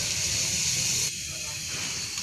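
Potato chips (french fries) frying in hot oil in a home kitchen, giving a steady, close, bright hiss and crackle that drops slightly in level partway through and continues throughout.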